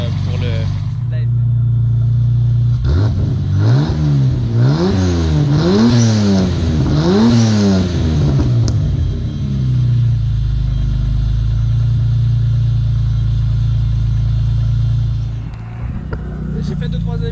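A turbocharged BMW E30 engine warms up, rising through a few wavering revs before settling into a steady, fairly loud idle, heard up close.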